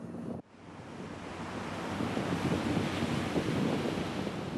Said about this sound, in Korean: 파도가 배를 때리며 휴식을 방해합니다.